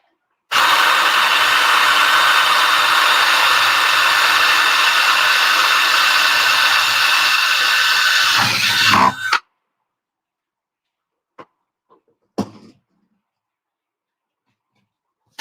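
A power drill whines loudly and steadily for about nine seconds while drilling a hole in a metal plate, then stops, followed by a few sharp clanks and scrapes of metal.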